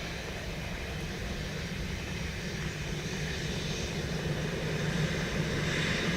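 A KLM airliner landing at Dublin Airport in rain: a steady, distant engine roar that swells slightly toward the end, mixed with a constant wet hiss of rain and spray.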